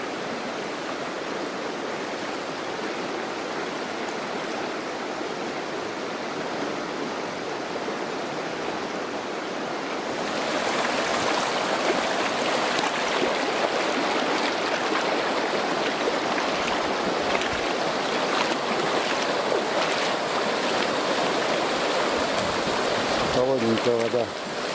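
Flowing river water rushing beside a small deep pool, a steady broadband wash that swells noticeably louder partway through and carries on continuously to the end.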